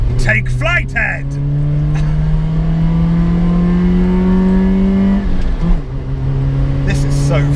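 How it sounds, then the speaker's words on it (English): A modified Nissan Micra accelerates hard on the road, its engine note climbing steadily in pitch over several seconds before a gear change drops it and it climbs again, heard from inside with people talking over it. "Wow, the way that accelerated. Listen to it though."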